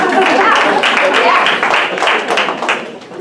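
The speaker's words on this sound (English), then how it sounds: "Let's give a round of applause for this." An audience claps together in a dense burst of applause that gradually thins and fades over a few seconds, with voices mixed in.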